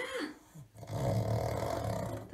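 A pug grunting and growling in a bath, a low rumbling snort followed by a longer throaty grumble, close and fairly quiet.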